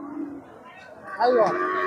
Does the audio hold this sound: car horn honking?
no